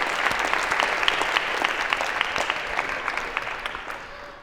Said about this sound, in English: a round of applause for having so proactively volunteered